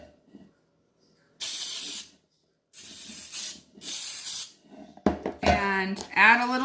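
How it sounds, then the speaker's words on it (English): Nonstick cooking spray hisses from a can into a pan in three separate bursts, each a second or so long, followed by handling noises and the clatter of the pan. "we're going to use a little bit of nonstick cooking spray"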